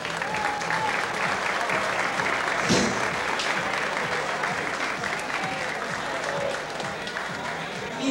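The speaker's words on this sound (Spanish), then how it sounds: "yo quiero que el primer aplauso de la noche sea para todos ustedes" An audience at a 1994 gay pageant, Miss Universo Gay Relax, bursts into loud, sustained applause filling the room, with cheers rising briefly partway through.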